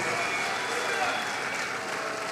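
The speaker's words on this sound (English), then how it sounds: "Let's keep the applause going." Sustained audience applause fills a stakeholder forum hall as a speaker leaves the stage, steady and dense throughout, with a voice faintly audible beneath the clapping.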